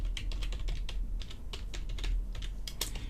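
Rapid, steady typing of code on a computer keyboard, dense clusters of close key clicks running continuously for a few seconds with no voices.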